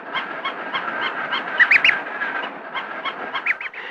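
A young duckling peeping contentedly, a string of high, bright chirps in uneven rhythm, close and fairly loud, with a few sharper calls in between.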